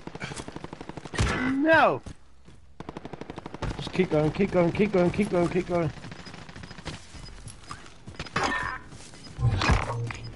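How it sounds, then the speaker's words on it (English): Video game gunfire coming from a house, rapid automatic bursts in repeated volleys, close and loud, interleaved with excited players shouting over the shooting. "Someone's shooting from in that house."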